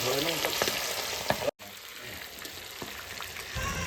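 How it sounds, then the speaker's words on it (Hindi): Fish fritters (bhajiya) frying in very hot oil over a high-flame stove, a steady close crackling sizzle with a few sharper pops and a momentary break. "फिर पापा भजिए उनको तेल में डाल देते हैं मच्छी के।"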